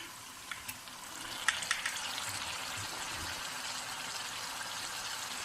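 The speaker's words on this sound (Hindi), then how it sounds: "इन दोनों को भी हम इसके साथ ही सिर्फ अब इसका कच्चापन दूर करने तक भूनेंगे" Ginger and garlic paste fries in a pan for a chicken korma, giving a steady, soft sizzle with a few sharp pops and stirring clicks early on.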